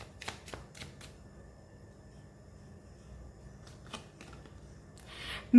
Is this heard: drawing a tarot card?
yes